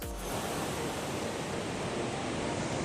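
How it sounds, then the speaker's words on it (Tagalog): Surf rolls in steadily at Naktaben white sand beach in Puerto Princesa, Palawan, a surfing spot with big waves, giving a continuous loud, close wash of breaking water with no voices. "Lalaki ng mga alon."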